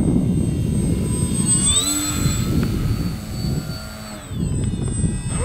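A 1.08 m vintage Scorpio Miss Bipe RC biplane engine whines overhead in flight, its high pitch sliding up and down as the throttle changes, steady and fairly close over a rumbling outdoor background.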